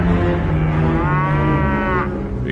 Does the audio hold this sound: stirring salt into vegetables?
no